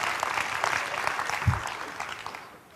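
Conference audience at a technology talk breaks into steady, moderately loud applause, a dense patter of many hands clapping that carries on throughout before tapering slightly.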